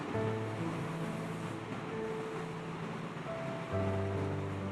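A bowl of mixed spices is poured over chicken frying with ginger and garlic for khichuri, giving a steady, even sizzle with a faint hum underneath and no talking.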